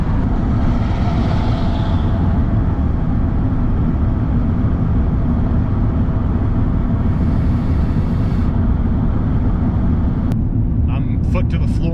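A RAM 3500 pickup hauling a wide load climbs a grade at full throttle, its engine a loud, steady drone that shifts as the transmission drops a gear, with someone talking over it.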